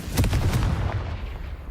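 A Confringo blasting spell cast in the video game Hogwarts Legacy: a sharp, loud burst with a booming impact that quickly decays, heard alone.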